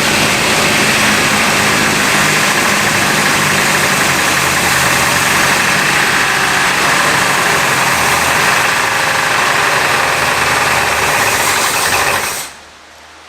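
The engine of a 1960s luxury car, previously seized and unrun for 30 years, runs steadily with a rough, clattering roar, overheating, then abruptly cuts off near the end, leaving quiet.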